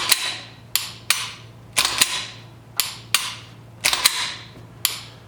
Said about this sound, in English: Slowly release your trigger to make sure it resets and you hear that audible click.